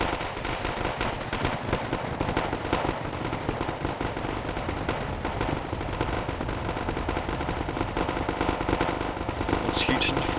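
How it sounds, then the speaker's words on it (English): Constant mortar fire pounds away in Wargame Airland Battle, a dense, unbroken barrage of blasts and rattling gunfire that fills the whole stretch at close range. "Constant mortar fire."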